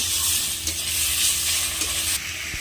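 Chopped tomatoes and salt frying in a hot pan, a steady broad sizzle with scraping stir strokes from a spatula, close and continuous with no voices.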